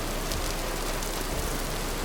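Rain falls in a video game world as a dense, even hiss of water, steady and fairly loud throughout, without any talking.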